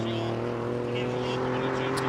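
An Alfa Romeo in normal drive mode runs at the Simola hill climb, its engine giving a steady, close, continuous drone with a constant pitch and no gear changes.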